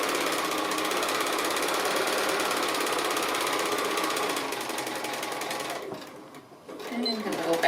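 A sewing machine stitches a seam on a small Christmas gift bag with a fast, steady mechanical chatter, close by, then slows and stops near the end while a voice talks over it.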